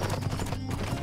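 Horse hooves clip-clop in the Western video game Six Guns, a quick, close rhythm of soft thuds over a brief stretch, with no talk.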